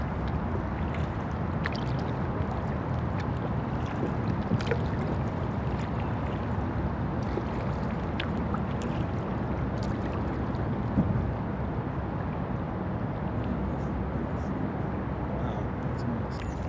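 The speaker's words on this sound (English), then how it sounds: "as I'm paddling my way through here" A paddle-powered boat glides through a calm, motor-free lagoon, a steady wash of water and wind noise running unbroken throughout.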